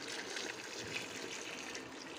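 Water is poured into a pot of rice for Mysore mutton pulao, a steady broadband rush of liquid that stays even and fairly quiet throughout.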